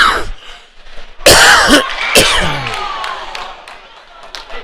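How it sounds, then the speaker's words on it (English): A commentator coughs and clears his throat close to the microphone during a youth bantam ice hockey game, two sharp loud bursts followed by rougher throat noise over a steady crowd murmur in the arena. "Sorry about the coughing there."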